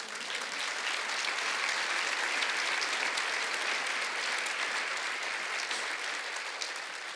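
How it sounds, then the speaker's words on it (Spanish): A church congregation applauds for the Lord, steady dense clapping that fills the whole stretch evenly with no voices over it. "Dale un fuerte aplauso al Señor."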